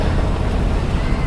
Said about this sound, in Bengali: সব বোটগুলো এখন ফিরছে